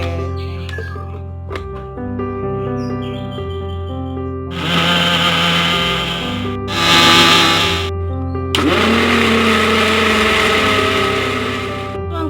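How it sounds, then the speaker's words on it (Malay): A kitchen blender grinds dried chillies, garlic, shallots, ginger and a little water, running in loud bursts with short pauses between them, over faint background music. "Lalu kita tutup dan jom kita blender."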